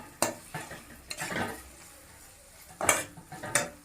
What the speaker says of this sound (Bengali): একটু নেড়ে নেবো ভালো করে।